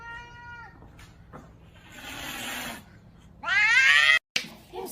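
Cat meowing loudly in a home, several drawn-out, rising and wavering meows, one long strident yowl near the end, close to the listener, over a low steady hum, with a brief cut just after it.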